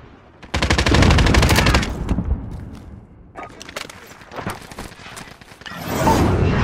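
Automatic gunfire in a modern military shooter video game, with cruise missile strikes and counter-drone systems: a loud, close, sustained machine-gun burst, then scattered single shots, and another burst at the end, with game radio voices in between.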